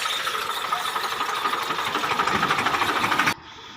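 A tractor engine runs close by with a steady rapid chugging rhythm, cutting off abruptly near the end to a quieter background.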